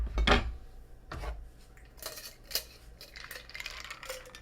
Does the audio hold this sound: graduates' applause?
no